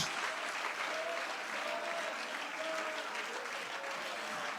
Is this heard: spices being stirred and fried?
no